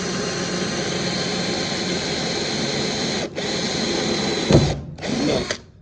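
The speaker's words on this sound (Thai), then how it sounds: "ซื้อสว่านมานะครับ ดอกสว่านนะครับ มาเจาะนำก่อนนะครับ" A power drill whines steadily at high speed drilling a pilot hole for a screw with a small bit, pausing briefly twice before spinning up again, close and loud, with no talking.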